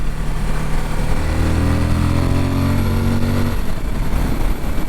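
A Suzuki V-Strom 1050 motorcycle engine drones close by at a steady pitch, then shifts and drops off near the end, with a loud, buzzy intake tone.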